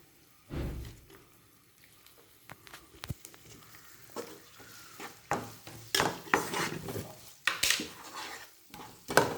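Sautéed onions with chilli powder being stirred in a pan for neymeen pollichathu, with intermittent scraping and clinks of a spoon against the pan over a faint sizzle, close and moderately quiet, no talk.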